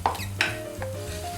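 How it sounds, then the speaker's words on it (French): Sliced white leeks sweating in melting butter in a pot for a cream of Dubarry soup, with a soft, steady low sizzle, a couple of brief clinks of a utensil against the pot, and no talking. "Alors on va bien faire suer les poireaux avec le beurre."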